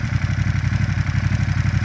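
A 2016 Aprilia Caponord motorcycle engine idles steadily with a deep, even burble from a stock exhaust, close and continuous with no voices.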